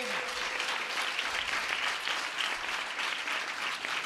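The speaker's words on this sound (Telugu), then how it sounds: "అందరు గట్టిగా చప్పట్లు కొట్టండి" Steady, dense applause from a church congregation, many hands clapping continuously throughout with no pauses.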